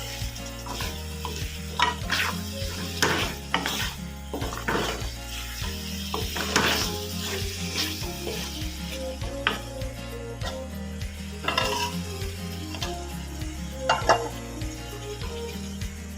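Wadiyan masala sizzles as it is fried and stirred in a pan, with repeated scraping strokes and spoon knocks over a continuous frying hiss, under background music.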